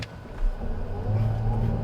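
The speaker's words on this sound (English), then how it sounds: "The gas engine kicked on immediately." A 2022 Chrysler Pacifica plug-in hybrid accelerates as its gas engine kicks on, a moderate engine hum rising in pitch and swelling slightly louder, heard from inside with no talking.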